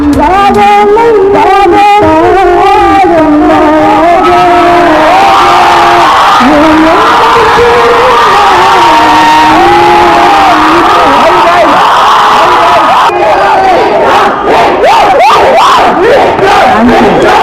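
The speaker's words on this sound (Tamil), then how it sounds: "அப்போது நடிகர் விக்ரம் திடீரென மேடை ஏறிய போது ரசிகர்கள் கரகோஷங்களை எழுப்பினர்" Fans roar and cheer loudly as actor Vikram suddenly steps onto the stage, a packed crowd of shouts and whoops, very loud and continuous, with amplified voices and music mixed in.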